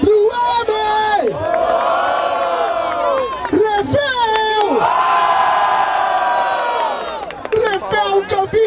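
A large crowd at a rap battle final in Barueri, Brazil, cheers and shouts loudly in sustained waves, with high voices whooping and yelling together, close and energetic.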